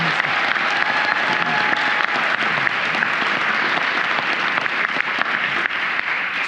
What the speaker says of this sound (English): Please just clap for that.